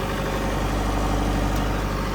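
A Sonalika 750 tractor engine idles steadily and loudly, a constant low rumble with no voices over it.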